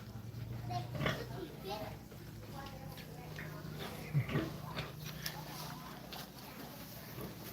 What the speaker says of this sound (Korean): 여기 옆에 얘는 임신한 멧돼지라서 이제 새끼 날 준비를 하고 있는데